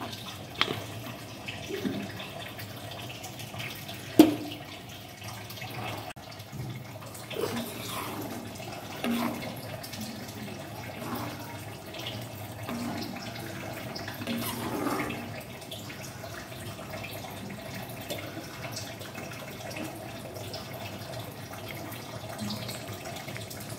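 Water runs and splashes while dishes are washed in a home kitchen, a steady mid-level wash with a few sharper clatters, one louder knock near the start, and no talk.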